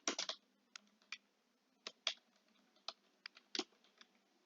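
Writing on a board, a quiet run of short scratchy strokes and taps in irregular bursts, close and faint, with no talking.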